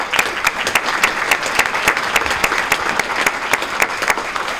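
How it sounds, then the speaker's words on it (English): Steady applause from a crowd, dense clapping that holds at an even level for several seconds with no talking over it. "a round of applause for Athena"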